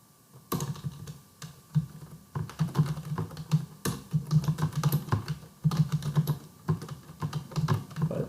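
Close, crisp typing of a search query on a computer keyboard, irregular quick bursts of keystrokes with short pauses and the odd heavier key press, no talking.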